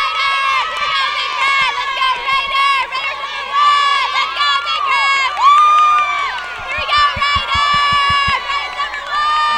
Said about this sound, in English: let's show everybody out there one of your cheers